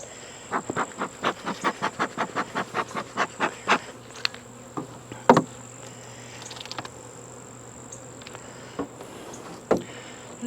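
Honeybees buzz in a steady drone around a hive. A run of regular soft puffs plays early, then scattered clicks follow.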